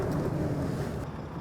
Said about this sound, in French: je vais effectuer la mise en marche du véhicule